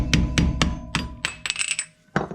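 A hammer tapping in a series of sharp, uneven strikes, some close together and some spaced apart, each one loud and clear with no talk over it.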